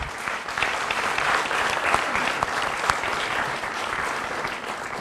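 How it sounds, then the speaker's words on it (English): A seminar audience gives a big round of applause, a thick, even wash of many hands clapping at steady loudness for about five seconds with no voices on top. "let's have a big round of applause for that"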